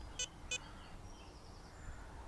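Two short, high-pitched electronic beeps in quick succession near the start from a Radiolink radio transmitter with a fully charged battery, then only faint background hiss.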